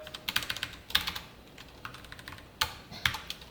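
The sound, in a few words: typing code on computer keyboard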